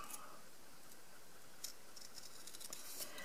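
Quiet crisp snips and scratchy rasps of scissors working through stiff cardstock, irregular and close, with faint background hiss.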